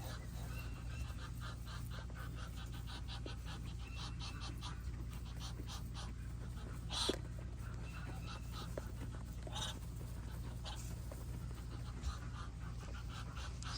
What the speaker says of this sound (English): You guys can hear Birdie the Muscovy duck with his heavy breathing in the background.